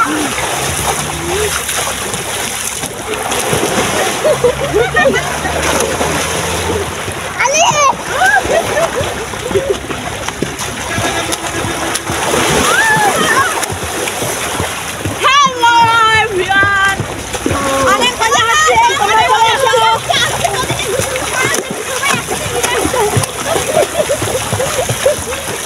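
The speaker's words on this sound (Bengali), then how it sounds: "অনেক সুন্দর করে সাঁতার কাটতেছে।" People bathe and swim in the Karatoya River, with constant splashing and sloshing water close by, while voices talk and call out over it throughout.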